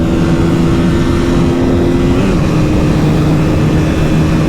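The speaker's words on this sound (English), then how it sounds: "So he has already gone full throttle and I'm following." A KTM RC 200 (2021 model) and an R15 V3 run at full throttle on the Guwahati–Shillong road, giving a loud, steady engine drone with wind rush; the pitch dips and shifts about halfway through.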